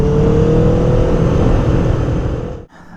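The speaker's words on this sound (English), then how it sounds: "This thing blows flames out the exhaust. It pops, it crackles." Loud, close sustained roar of a sport motorcycle engine held at high revs with a rising whine, then an abrupt cut-off and a quieter idle after the throttle drops; distinct exhaust pops are not evident.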